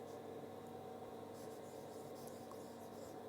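Pen scratching points into a notebook at a steady pace, faint and close, a soft continuous scribble with a low room hum underneath and no talk.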